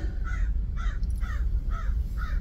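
A crow caws repeatedly outdoors, five evenly spaced harsh calls over a low steady background rumble, with no talking.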